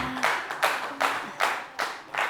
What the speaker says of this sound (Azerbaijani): sizin alqışlarınızla qonaqlarımızı dəvət eləmək istəyirəm